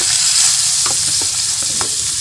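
Chopped onion fries in a hot pan, giving a steady, close sizzle with a few scrapes of stirring over a broadband hiss. No one speaks.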